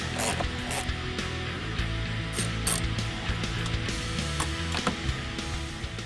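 Ratchet loosening bolts in the cowl area of a 2013 Ford Focus ST, close, rapid clicking strokes in irregular bursts throughout with some louder snaps.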